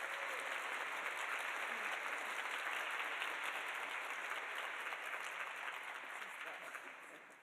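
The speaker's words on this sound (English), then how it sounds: "let's give a big round of applause for Dean Melinda Pettigrew." An audience at a School of Public Health new student orientation gives a round of applause for a dean taking the stage, steady crowded clapping that fades slightly toward the end.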